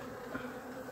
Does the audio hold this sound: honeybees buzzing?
yes